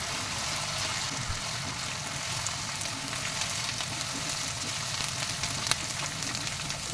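Onions fry with ginger and garlic in a pan for a home-style Maharashtrian chicken curry, giving a continuous, even sizzle with faint crackles and no talking over it.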